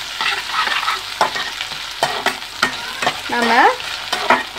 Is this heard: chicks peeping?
no